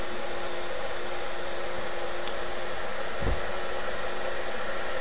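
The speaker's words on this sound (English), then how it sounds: "Both of these run this hairdryer quite well." Hair dryer running on its cool fan-only setting, powered from a portable power station, a loud, steady, continuous whooshing drone with one brief bump near the end, no talk.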